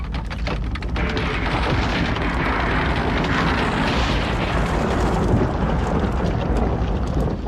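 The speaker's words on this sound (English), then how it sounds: "The soldiers pull down houses and blow up shops." Buildings and shops being blown up near a city fire, heard as a continuous loud rumbling roar of explosions that fills the whole stretch with a dense low boom and crackle, with no voices.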